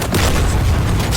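Bombs from an F/A-18 Hornet striking ground targets in a DCS World combat mission, a single deep, loud, sustained boom rumbling through the whole moment.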